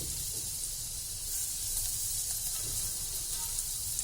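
Butter sizzles in a pot over a gas flame on medium-low heat, a continuous soft hiss that stays even and fairly quiet throughout, with no voices.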